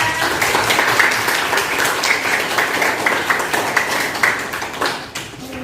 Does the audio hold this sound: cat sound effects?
no